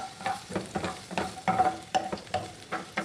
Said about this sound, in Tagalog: Hanggang mag-golden brown, haluin lang natin to.